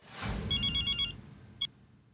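A telephone bell rings in a short repeated burst followed by one brief final chirp, fairly quiet, with a low rumbling noise underneath and no talking.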